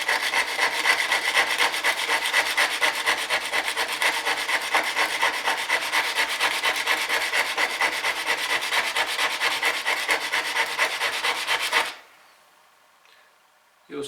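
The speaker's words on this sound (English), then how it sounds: "working backwards and forwards on the sandpaper" A chisel bevel is rubbed by hand back and forth on sandpaper in a quick, even rasping rhythm, close and loud for about twelve seconds before stopping abruptly into near silence.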